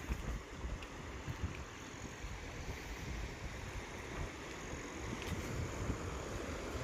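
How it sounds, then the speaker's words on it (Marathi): River water flowing steadily beneath a bridge in a rural shepherding area, a broad continuous rush with low rumbling and wind buffeting the microphone throughout, no voices. "नदीला पाणी आलंय आता."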